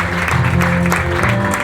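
Audience clapping at a graduation ceremony, a dense steady wash of applause from a crowd, loud and continuous throughout with a faint tonal hum underneath.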